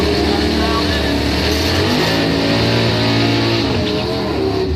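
Doorslammer drag race cars roar down the strip in a loud, sustained engine blast with shifting revs, while a track announcer talks over the noise.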